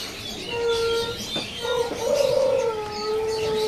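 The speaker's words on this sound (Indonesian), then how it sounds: "Di sini juga ada burung perkutut Bangkok perdana" A perkutut Bangkok zebra dove cooing at a bird shop: soft, rolling tonal coos repeat in a short phrase, fairly close, over a steady background hiss.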